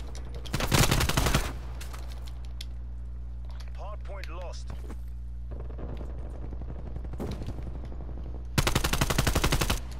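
Automatic gunfire in Call of Duty: Black Ops Cold War Hardpoint league play, with shots fired through a wall. A loud, rapid burst opens the clip and another closes it, with quieter game sounds and faint voices in between.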